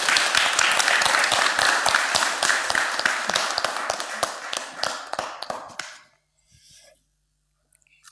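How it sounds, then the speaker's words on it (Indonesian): An audience claps at the opening of a stage show, dense and steady for about six seconds, then tapering off into near silence with a few stray claps. "Tepuk tangan dulu."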